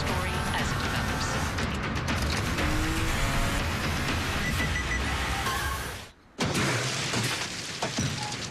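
A Toyota Camry drives and brakes in a TV commercial; a continuous car and street wash with mechanical clatter runs loudly, cuts to near silence briefly, then resumes with engine noise.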